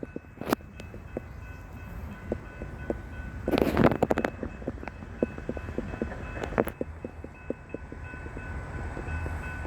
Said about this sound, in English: And here comes our 3-engine lash up.